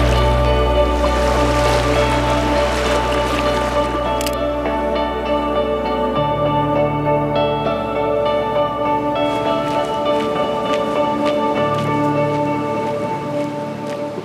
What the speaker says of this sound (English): as the water is coming over it, it's cascading into like a small little waterfall kind of look